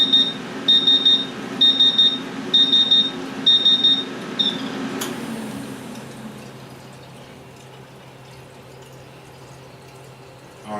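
Alarm on a laser water chiller for a 100 watt Omtech laser tube beeps in a steady repeating pattern for about five seconds, then stops, leaving only a low hum of the machine and faint trickling water.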